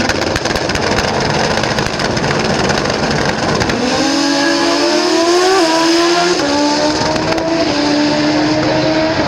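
A turbocharged Suzuki Hayabusa drag motorcycle racing at a drag strip meet in Willowbank, Queensland, loud and close, with harsh engine roar and then a screaming pitch that climbs through gear changes.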